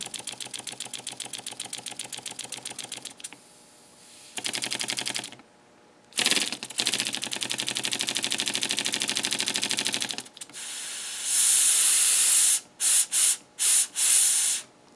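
Small sand-cast Fizz Whizz steam engine running slowly, with rapid rhythmic chuffing and clicking that comes in bursts, shifts in tone, and ends with a series of short hissy puffs.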